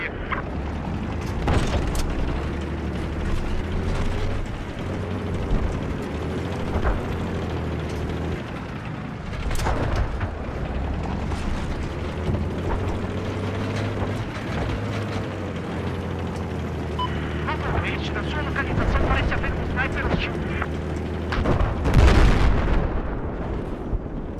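Repeated booming blasts and sharp bangs from the video game Battlefield 4 sound over a continuous low rumble. The bursts are irregular, with a louder cluster near the end, and no one speaks.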